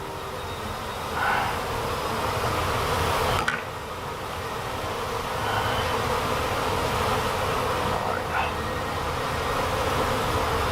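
Honey bee swarm buzzing steadily inside a shed, a dense continuous hum filling the space with a few brief knocks and handling sounds, no talking.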